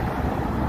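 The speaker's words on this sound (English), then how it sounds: "it is pretty windy" Strong wind buffets an outdoor microphone at an activism event in L.A., producing a steady, loud low rumble that runs unbroken through the whole moment, with no voices.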